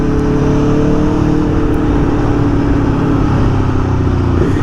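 A 2022 Aprilia Tuono V4 Factory motorcycle roars loudly and steadily at close range, engine note shifting as it revs and blips through downshifts, with heavy wind rush throughout.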